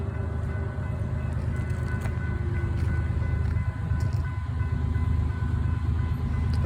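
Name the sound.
auto rack freight train passing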